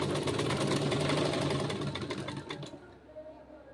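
Sewing machine stitching a suit garment, a dense rapid mechanical whir running steadily close by for most of the moment before winding down and trailing off near the end.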